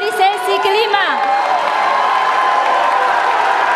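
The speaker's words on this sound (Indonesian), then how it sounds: "silahkan kalau dari para pendukung pasangan calon kita boleh tepuk tangan" Supporters at a 2017 Jakarta gubernatorial election debate cheer and whoop loudly, voices shouting over a dense wash of crowd noise and clapping that fills the hall throughout.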